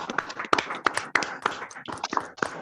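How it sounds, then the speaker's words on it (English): Online meeting participants clap together after a wonderful session, a ragged burst of sharp, uneven claps from several unmuted people, fairly close and steady for a couple of seconds with no talking over them. "I request all the people to just unmute and let's clap for Payal"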